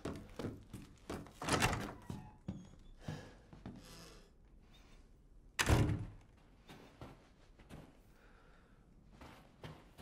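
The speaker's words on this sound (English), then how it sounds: "Let me open this drawer here." Drawer and furniture sounds in the video game Resident Evil Village: a string of wooden thunks and knocks with two louder heavy thuds, one early and one midway, over faint background noise.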